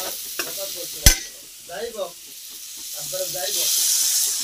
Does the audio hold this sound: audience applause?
no